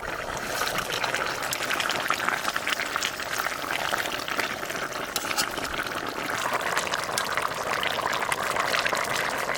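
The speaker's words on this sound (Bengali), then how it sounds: "এখানে এইবার মাছ দিয়ে একটু নাড়াচাড়া দিয়ে নামাই দেবো" A pot of cauliflower, potato and hilsa fish curry is stirred as it cooks, giving a continuous close wet bubbling and sloshing with soft crackles throughout.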